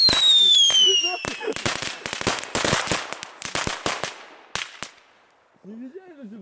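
Small crackling firecrackers going off in a rapid burst of sharp pops and crackles outdoors, loud and dense at first, then thinning to scattered bangs before a voice speaks at the end.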